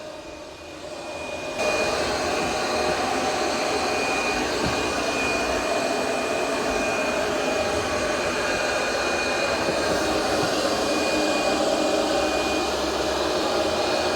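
A Roborock Curv 2 robot vacuum runs close by with a steady, high-pitched motor whine and airy suction hum, starting softer, then rising abruptly to a loud, even drone that holds for the remainder.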